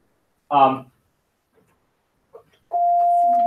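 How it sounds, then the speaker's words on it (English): A classroom bell rings to end a lesson, a sustained steady electric tone entering after a brief voice and a short sound, loud and alone at the close. "There's the bell."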